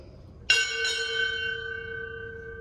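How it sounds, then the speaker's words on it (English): Two clear strikes of a ship's bell at a United States Navy retirement ceremony, the second following closely after the first, both ringing out and sustaining in a long fading tone. "Strike 2 bells."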